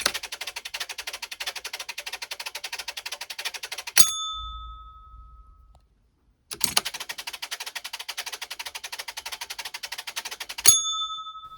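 A homemade relay computer fitted with a clock chatters with rapid, evenly spaced relay clicks, then a bright bell dings as the task finishes. After a short silence the clicking and the ding repeat, close and clear.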